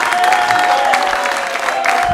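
A television studio audience applauds on a variety show, a loud, sustained wash of clapping with a steady musical tone running beneath it.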